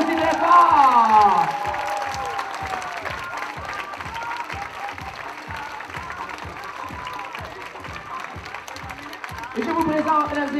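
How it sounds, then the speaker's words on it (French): An audience applauds loudly for a school show by students of the Marguerite-Bourgeoys school, steady clapping and cheering with an announcer's voice over the start and end. "On les applaudit très fort!"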